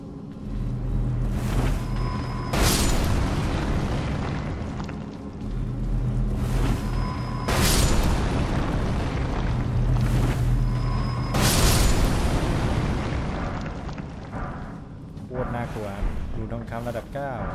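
Several heavy booms burst out in Elden Ring, each a loud broadband blast with a rumbling tail, spaced a few seconds apart over steady game music and ambience, with a voice talking throughout.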